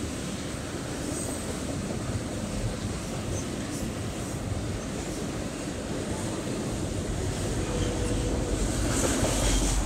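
Train rumbling steadily through a rail yard, a continuous loud rolling noise of railroad cars with faint wheel squeal, no voices heard.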